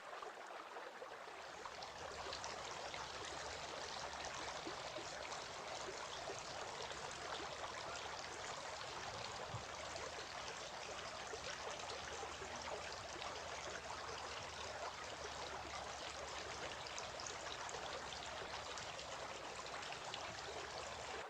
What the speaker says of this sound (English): Then he took a handful of water and washed his right forearm, and again took another handful of water and washed his left forearm